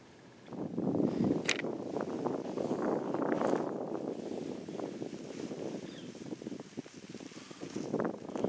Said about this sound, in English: Wind is blowing pretty good